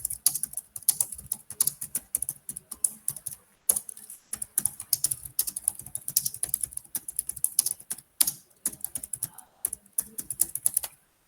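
Fast, steady typing on a computer keyboard, close and fairly quiet, with clustered key clicks and short pauses breaking the rhythm.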